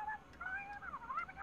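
A cartoon cat meows faintly in a short, rising and falling call, heard alone over a quiet background.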